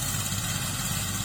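A D12 diesel engine driving a rice thresher, a continuous low rumbling drone with steady mechanical vibration, loud and close with no breaks.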